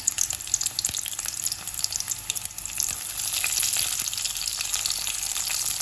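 Chopped garlic and green chillies sauté in hot oil in a pan for tomato chutney, a loud, continuous sizzle with crackling pops and bursts, rising steadily toward the end with no voices.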